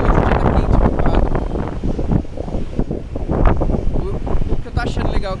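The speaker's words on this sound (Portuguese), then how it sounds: "força do vento que tá aqui em cima" Strong wind buffets a building rooftop in São Paulo on a hot day, roaring loudly and continuously against the microphone while someone talks over it.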